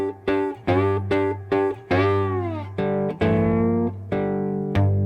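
A three-string cigar box guitar playing Chicago blues, with a series of plucked, ringing notes and chords in a steady rhythm, one deep thumbed bass note standing alone among them, close and clear with no talking.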